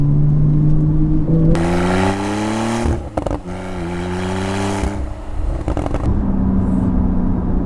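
A Porsche 991.2 GTS with a Shark Werks exhaust and muffler revs hard and close, its deep engine note climbing in pitch, briefly dropping off, then rising again before settling into a loud idle rumble.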